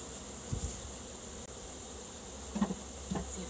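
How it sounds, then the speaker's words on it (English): A soft, steady buzz of honeybees hums in the background during an autumn hive inspection, with a few louder passes as individual bees fly close. "we're going to go grab some more bees."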